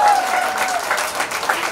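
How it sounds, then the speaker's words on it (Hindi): Audience applause at a celebrity stage event, a steady burst of clapping with some crowd noise, fairly close and loud, sustained for the whole short stretch. "वापस से तो ताली बजा दो एक बार"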